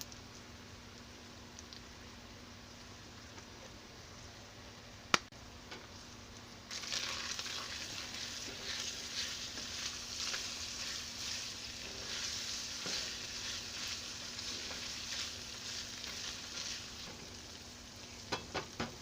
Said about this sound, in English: So I have started out with 1 pound of ground sausage. I am frying this up.